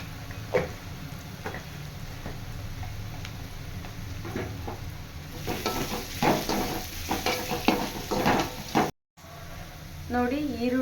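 Onions frying with curry leaves and turmeric in a pan for a rice dish, a close, steady sizzle broken by repeated scraping stirs and spoon taps, with a brief dropout near the end.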